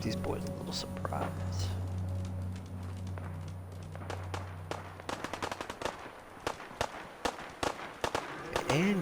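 Rapid bursts of gunfire from the video game Fallout 4, a string of sharp cracks filling the second half over a low droning hum, with a streamer speaking faintly beneath.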